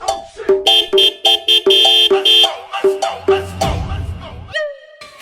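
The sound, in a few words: vehicle horn honking repeatedly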